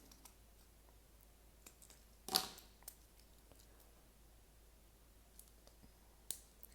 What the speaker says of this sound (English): That one needs a little more snipping.